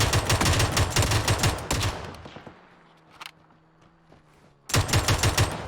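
The MK47 Mutant rifle fires in PUBG in rapid loud bursts of shots, then a quieter pause with faint footsteps and clicks before another sharp volley erupts at the end.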